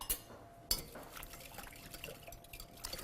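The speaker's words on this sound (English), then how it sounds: "now I'm going to whisk this together" A whisk stirring a wet marinade of brown sugar and cornstarch in a bowl, soft liquid sloshing with a couple of sharper clinks against the bowl, faint and close.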